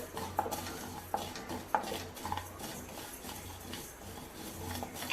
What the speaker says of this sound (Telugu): 1 టేబుల్ స్పూన్ మెంతులు బాగా వేయించుకోవాలి